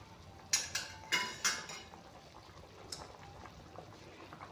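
Fish pieces dropping into simmering curry in a pan: a few quick clinking plops close by in the first seconds, then a single softer knock over a faint low bubble.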